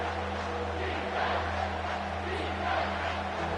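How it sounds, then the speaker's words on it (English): Home crowd at an Iowa vs UCLA college football game roars steadily in a packed stadium on a third-down defensive stand, a dense sustained cheer with swells of shouting. "Here comes this home crowd as the defense tries to get off the field on 3rd down."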